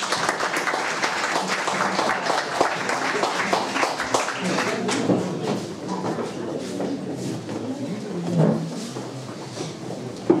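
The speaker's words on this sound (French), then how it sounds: "On les applaudit encore." Audience applause at a French political meeting, a sustained dense patter of many hands clapping in a large room, gradually thinning toward the end.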